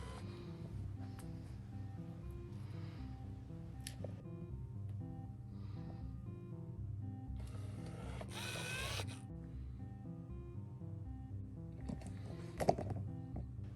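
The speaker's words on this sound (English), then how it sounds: "let's test the Servo Sticks. It is quite magical to see the arms move." Servo Sticks motors in an arcade pedestal cabinet moving the joystick arms, making short whirring buzzes in separate bursts with pauses between, close and fairly quiet over a low hum.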